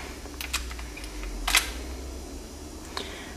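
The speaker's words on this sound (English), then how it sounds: "I'll just cycle the lock a couple of times just so you can see it function." A Hobbs Protector lock is worked with its key, producing a few crisp metallic clicks and one louder clack mid-way, close and distinct against quiet room hiss.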